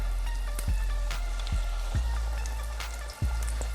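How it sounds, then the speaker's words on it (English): Flour-coated tripe and shrimp fry in hot grease with a steady close sizzle and crackle, broken by a few dull knocks, and no one speaks. "Not going to take the shrimps that long to fry. Nor would it take the tripe."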